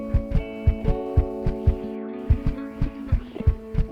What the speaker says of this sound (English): walking on stone sounds like this, but walking on a carpet.